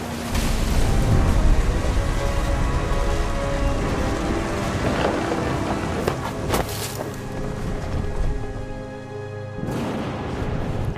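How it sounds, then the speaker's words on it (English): Heavy rain pours steadily in a video game thunderstorm, with deep rolling thunder rumbling beneath a dense hiss of downpour that continues without a break. "The thunder sounded much too close and full of angry power"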